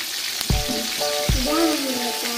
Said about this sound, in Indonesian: kita mulai goreng